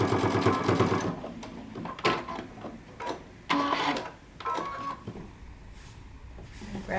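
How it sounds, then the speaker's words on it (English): A sewing machine stitching a single pocket line 5/8 inch from the finished edge of a jumpsuit, running in several short bursts of rapid mechanical whirring with pauses between them. "I'm going to sew just one stitching line 5/8 of an inch down from my finished edge"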